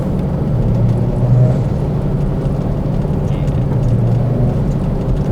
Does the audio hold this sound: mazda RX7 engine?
yes